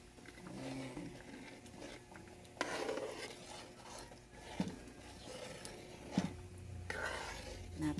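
Eggs, two of them, being stirred into a pot of rice porridge, with a utensil scraping and clinking against the pot in irregular bursts, close and moderately loud, no talking.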